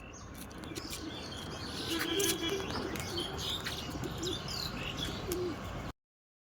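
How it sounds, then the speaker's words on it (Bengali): Bazi pigeons, including red-speckled birds, coo in low, repeated murmurs amid steady chirping and twittering from other birds nearby, with no talk. "পায়রা দেখাচ্ছি, হ্যাঁ, লাল তিলে, ঠিক আছে।"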